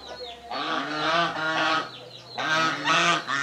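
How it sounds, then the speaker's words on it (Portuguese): Geese honking loudly in a rural backyard, a run of harsh, repeated calls with two bursts of clamor separated by brief pauses, close by and with no talk over them. "Pato ganso, zoadão aqui só."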